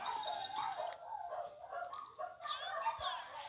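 Dogs bark and yip in the background while a person talks over a Brawl Stars game, the barks faint to moderate and scattered across the clip.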